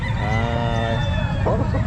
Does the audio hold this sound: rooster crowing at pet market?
yes